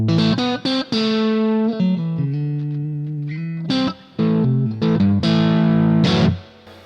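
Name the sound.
electric guitar through Boss MS3, classic channel, gain about 80%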